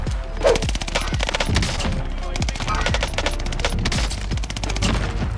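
Rapid automatic fire from an AS44 rifle in the video game Warzone, a dense, loud, continuous stream of shots with brief bursts and bass-heavy thumps throughout.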